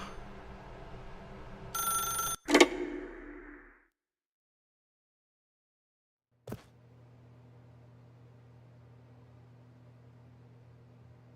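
A telephone rings in the video game The Stanley Parable, a couple of short bright bursts followed by a sharp click, then a long quiet low hum.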